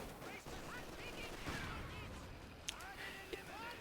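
An anti-tank gun fires in Company of Heroes 2 amid a busy battle mix, with sharp cracks and distant gunfire over a dense bed of game noise and a commentator talking.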